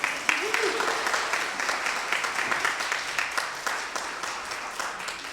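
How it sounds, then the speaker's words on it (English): An audience applauds at a Mitzvah Day opening program, a steady wash of many hands clapping at moderate loudness throughout, with faint voices mixed underneath. "So once again, a round of applause."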